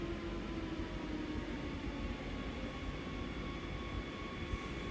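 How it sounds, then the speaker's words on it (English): Talent 2 electric multiple unit running on a rapid transit line in Train Sim World, heard as a steady rumbling cab drone with a faint constant whine, continuous and even throughout with no voices. "Trying to remember how to drive this train now."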